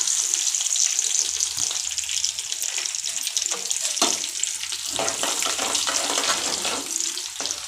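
Dried red chillies, curry leaves and a little urad dal fry in hot oil for a South Indian tempering, giving a steady, close crackling sizzle throughout with brief louder pops and no talking.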